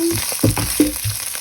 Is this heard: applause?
no